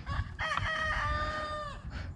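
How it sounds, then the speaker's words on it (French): A small rooster crows once among backyard hens, a close, thin, strained cock-a-doodle-doo lasting under two seconds with no talking. "Vous entendez ça, c'est le tout petit coq."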